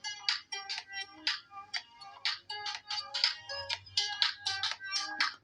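A ringtone plays through the stereo speakers of a vivo Y28 phone: a bright, repeating electronic melody of short chiming notes in a steady rhythm, loud and close, with no talking.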